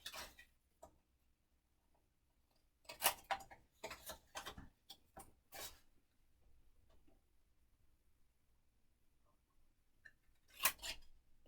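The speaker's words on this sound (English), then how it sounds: "I'm going to just take my scissors and cut off all of these 4 corners." Scissors snip the four corners off a sheet of paper during a Valentine pop-up mini album craft, with a few sharp separate cuts and quiet handling between them.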